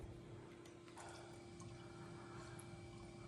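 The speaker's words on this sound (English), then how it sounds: "We'll let this run for a little bit. It's coming down. You can see it coming through the pipe." Reverse osmosis discharge water runs through a drain pipe with a steady, continuous hiss and trickle, quiet and unbroken, with a faint tonal hum underneath.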